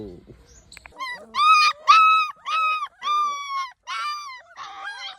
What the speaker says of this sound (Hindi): तो कितना हल्ला कर रहे हैं।